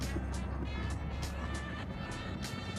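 A car driving on a road in Italy during a road trip: a continuous low engine and road rumble heard from inside the vehicle, steady and moderately quiet, with faint intermittent whooshes passing by.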